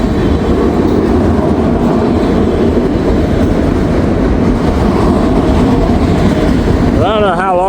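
Trains roll past at the Cincinnati terminal, a loud continuous rumble of wheels and cars under strong wind noise, with a horn sounding briefly near the end.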